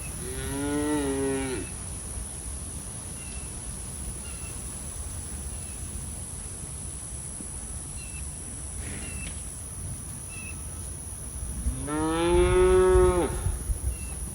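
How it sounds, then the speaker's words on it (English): Cows moo twice in a backyard setting, a long low call at the start and another near the end, fairly distant over steady background hiss and faint birds. "Are there any cows over there?"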